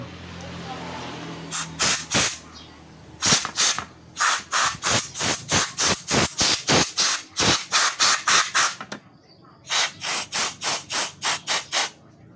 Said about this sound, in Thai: เดี๋ยวเราก็จะเป่าฝุ่นออกนิดนึง